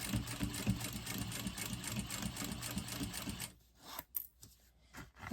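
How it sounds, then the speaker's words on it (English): A sewing machine chain stitching a tote bag runs in a fast, even mechanical whir for several seconds close by, then stops, leaving quieter clicks, rustles and handling noises, no voices. "I'm going to chain stitch, so I'm going to continue stitching"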